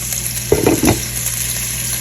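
Sliced onions frying in a pan until light golden, a soft steady sizzle with a few brief stirring scrapes near the middle, close and moderately loud.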